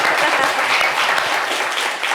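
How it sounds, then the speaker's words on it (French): An audience claps continuously, a dense, loud wash of applause that holds steady and tapers slightly at the end. "Et applaudissez pour Natou, s'il vous plaît."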